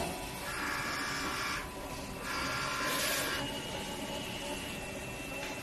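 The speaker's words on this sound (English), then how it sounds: "And then the printer starts to print a picture out." A DTF printer prints a calibration image, its print head carriage whirring in sweeping passes with brief pauses between, a soft mechanical hum close by and nobody speaking.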